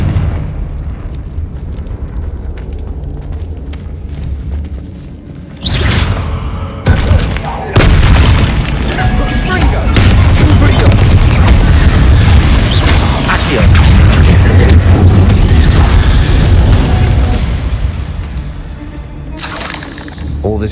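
A Confringo fire spell bursts in the Hogwarts Legacy video game with a sudden loud booming blast, followed by a long, heavy roaring rumble that slowly fades after quieter ambient sound at the start.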